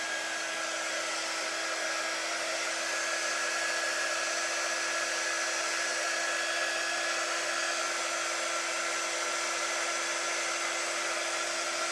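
A hair dryer blowing steadily and loudly at close range for the whole stretch, a constant unbroken whoosh with a high whine and no talking.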